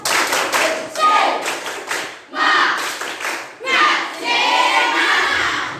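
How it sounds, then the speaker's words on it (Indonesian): Schoolchildren in a classroom perform a rhythmic spirit clap, several bursts of patterned clapping with brief pauses between, loud and close, mixed with young voices chanting along. "Ayo, tepuk semangat."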